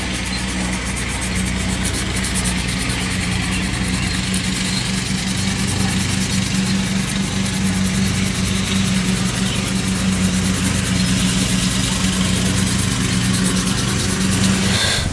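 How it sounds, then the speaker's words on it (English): A steady engine drone runs close by without pause, a loud, even mechanical hum like a mower working nearby, with no talking. "The neighbor's out mowing the property"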